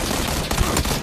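Rapid gunfire from the PUBG battle royale video game, a dense burst of automatic shots with sharp cracks standing out near the middle, loud and close, with no talking over it.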